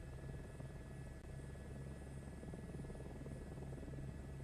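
A radio-controlled or small helicopter lifts off and drifts, its rotor giving a steady, faint buzzing hum with a constant tonal drone, running alone without speech.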